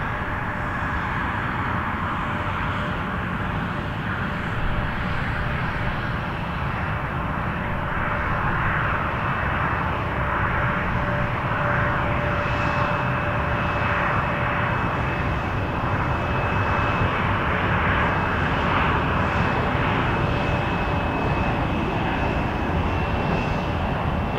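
A passenger jet takes off at Toronto Pearson Airport, a loud, steady engine roar that holds without letup, heard from a distance across the airfield at night.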